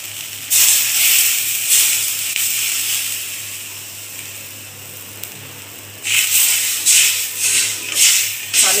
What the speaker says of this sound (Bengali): এখন পানি দিয়ে দিব।